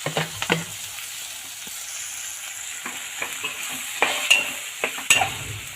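Sambharo vegetables with turmeric fry in hot oil, a soft steady sizzle punctuated by sharp spatula clinks and scraping as they are stirred, no speech.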